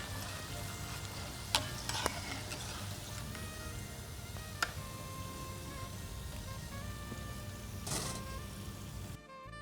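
Snake gourd pakoda deep-frying in hot oil, a steady dense sizzle and crackle running throughout with a few sharp clinks of a utensil, no voices.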